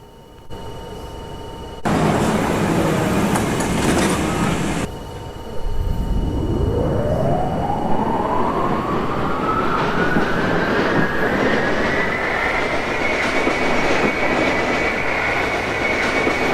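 A Roblox NYCT subway train on the B/D lines runs steadily with a loud, continuous rumble, a short louder burst early on, then a rising motor whine as it accelerates.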